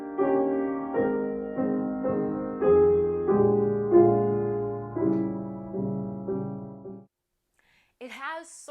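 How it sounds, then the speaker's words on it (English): A singer and piano perform the close of Clara Schumann's art song Ihr Bildnis, the vocal line settling onto a diminished chord in a series of sustained, swelling phrases, followed by silence and a brief spoken voice at the end. "the vocal line ends on a diminished chord"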